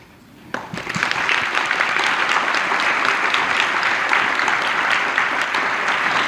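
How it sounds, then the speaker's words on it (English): Audience applause at a recognition ceremony for a standing steering committee, loud dense clapping that swells in after half a second of quiet and holds steady to the end. "please stand for a quick round of applause."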